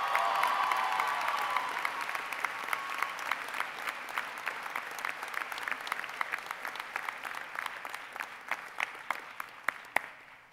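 A commencement audience at an undergraduate ceremony breaks into loud, sustained applause for a graduate, the dense crowd clapping slowly thinning into scattered individual claps as it fades out.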